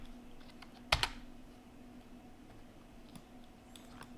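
Quick keystrokes on a computer keyboard, two sharp close clicks followed by a few faint taps, in a quiet room.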